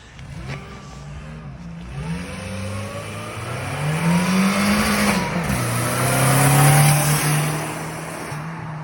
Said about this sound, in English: You can hear that supercharger tickling away.